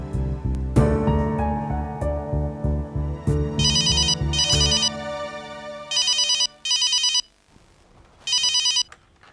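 A mobile phone ringtone plays loudly, a melodic tone followed by repeated bursts of a high electronic ring with short pauses between them.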